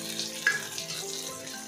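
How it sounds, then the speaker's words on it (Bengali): Water poured into a hot pan of spiced egg tadka masala, a brief faint splash and hiss over a low background sizzle. "অল্প পরিমাণে একটু জল দিয়ে দিচ্ছি"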